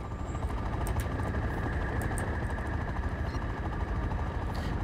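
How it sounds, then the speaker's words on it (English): Helicopter rotor chopping in the real-time strategy game Act of War: Direct Action, a steady close drone that runs unbroken throughout with a few faint high interface blips over it. "That's why the helicopter was there."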